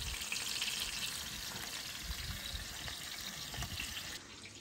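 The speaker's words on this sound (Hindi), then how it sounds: "तेल बही छोड़ा और नाल ही प्याज ही बही छोड़ा" Sliced onions fry in hot oil in a large pot over an open fire, producing a dense, steady sizzle that stays loud and close, easing slightly near the end, with no voices.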